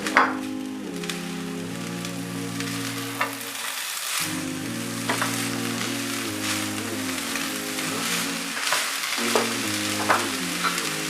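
Finely chopped capsicum sizzles and fries steadily in a pan for a chicken roll filling, with a continuous crackle, a brief dip near the middle and occasional stirring clatter, no voices.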